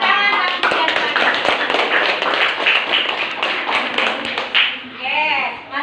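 Classroom of primary school children clapping in a patterned rhythm together, dense rapid claps across the whole span with young voices calling out amid it.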